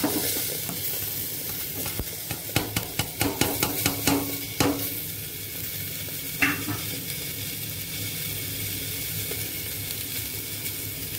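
Green chili, capsicum and tomato tipped into a pot for vegetable khichdi sizzle steadily while a spoon stirs and scrapes, with a burst of clattering strokes early on that settles into continuous frying hiss.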